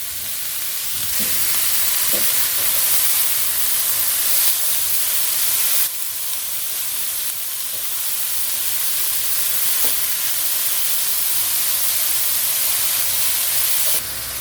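Garlic and vegetables sauteing in a pan for stuffed cabbage give a steady, close sizzle and hiss that runs unbroken throughout, with a few faint clicks of stirring and no talking.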